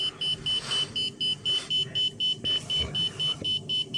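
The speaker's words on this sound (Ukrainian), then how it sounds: "Навожу на нього спрацьовує сигналізація звукова." Rapid electronic beeping alarm from a radiation dosimeter, a high-pitched tone pulsing steadily and quickly, close and loud, with faint background noise underneath.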